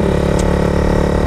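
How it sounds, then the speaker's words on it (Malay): A 2011–2012 Honda CBR250RR single-cylinder motorcycle idles close by, its engine putting out a loud, steady, even throb with no revving, heard alone. "motor aku ni brand Honda, model CBR 250RR tahun 2011 ataupun 2012"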